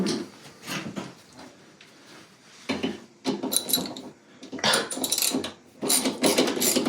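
Wrench or ratchet loosening four 7/16 counterweight bolts at the bottom of an Electrolux front-load washer with its front panel off; irregular metallic clicking and clanking bursts come up close, separated by brief pauses.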